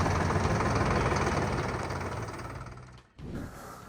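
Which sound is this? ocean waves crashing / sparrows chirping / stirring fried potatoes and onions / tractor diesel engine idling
tractor diesel engine idling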